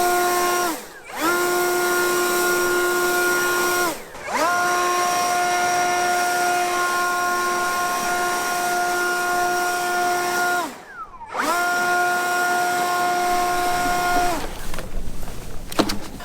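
A Milwaukee battery leaf blower whines at a steady high-pitched motor tone, cutting out in short dips between settings and running at its highest speed near and loud, with no voices.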